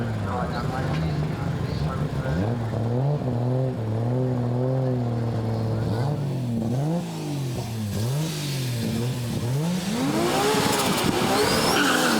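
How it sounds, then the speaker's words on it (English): A drag racing car at a Top of the Bangers style drag strip event revs hard on the line after a burnout, its engine note rising and falling in loud sweeping pitch changes, with tire noise and crowd voices talking over it. "here he is on the line now, after one of his familiar burnouts"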